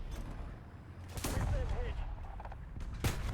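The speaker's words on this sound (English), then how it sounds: "As I'm reversing, I might as well fire a shot." A KV-1 C 756 (r) tank fires its cannon in an online tank battle game while reversing: two loud, sharp booms about two seconds apart over a steady engine rumble.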